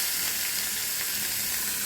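Small shallots frying in oil with cumin and red chillies for gongura chutney, a steady dense sizzle and crackle that fills the whole stretch at close range, with no talk.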